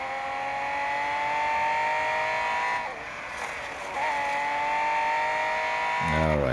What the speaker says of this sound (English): But apparently not for me, as I'm skidding off track.